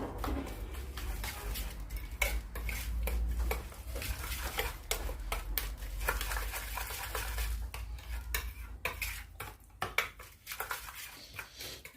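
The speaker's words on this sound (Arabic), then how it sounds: "نقلب الخليط الجميل ده مع بعض كده" A food mixture with lemon juice and ginger being stirred in a bowl, giving a steady stream of close scraping and clinking utensil sounds without voices.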